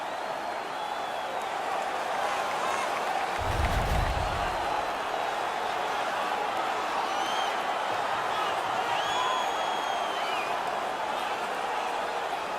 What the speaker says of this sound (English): Their man's won the fight. The crowd is ecstatic.